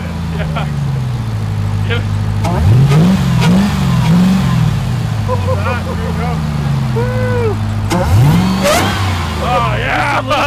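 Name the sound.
Demon Hemi engine in Jeep Gladiator revving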